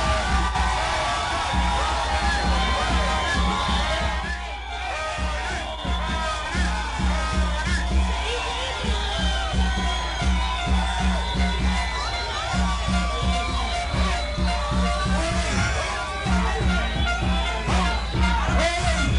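Crowd of striking Verizon workers on a picket line for Bernie Sanders, steady loud chanting and cheering with whoops and yells, continuous dense crowd noise throughout.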